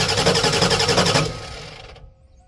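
A 1988 Ford F350 with a 7.3 IDI diesel cranks without starting, the starter churning in a fast, even rhythm for just over a second before winding down and falling quiet.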